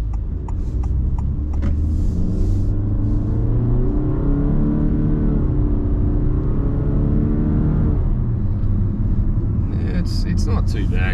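A 2022 Honda HR-V petrol car accelerates with a steady, rising engine drone and road rumble heard from inside the cabin, continuous throughout, with a few faint clicks near the end.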